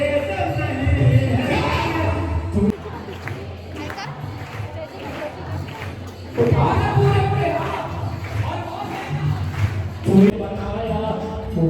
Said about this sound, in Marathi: खूप जास्त गर्दी होती